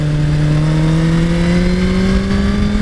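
A 2017 Suzuki GSX-R1000 motorcycle engine revs steadily upward on a test ride, its strong harmonic whine climbing in pitch across the whole stretch, loud and close with no talking.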